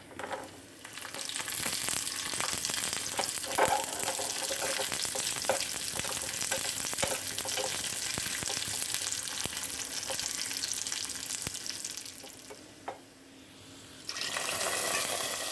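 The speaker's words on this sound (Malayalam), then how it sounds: "നമുക്ക് പാചകത്തിലേക്ക് ചേർക്കാനുള്ള നട്ട്സും കിസ്മിസും ഒന്ന് ഫ്രൈ ചെയ്തെടുക്കാം" Nuts and raisins fry in ghee in a pan for payasam, a steady loud sizzle with occasional stirring scrapes, briefly dipping near the end before resuming.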